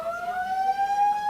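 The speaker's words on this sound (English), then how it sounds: "It's a false alarm." An alarm siren sounds, a loud, steady high wail that slowly rises in pitch and holds throughout.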